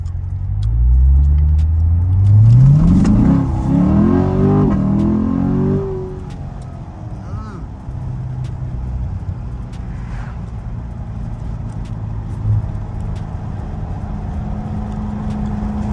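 A Corvette in Florida accelerates hard, its engine rising loudly through rapid revs for several seconds before easing off, then settling into a steady, lower cruising drone as the traction control cuts in.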